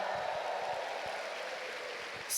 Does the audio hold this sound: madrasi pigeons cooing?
no